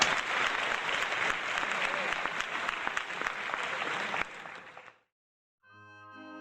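Applause from an old swing festival radio broadcast plays through a restored 1929 Philco Model 86 radio, a dense crackly clapping that cuts off abruptly and is followed by a brief tonal sound after a short gap.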